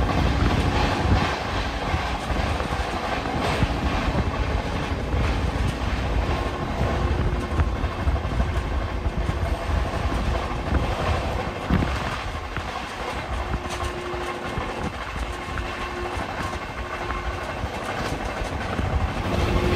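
Shantiniketan Express 12337 runs on rails with a continuous loud, roaring rumble and a faint rhythmic clatter of wheels, heard alone with no voices.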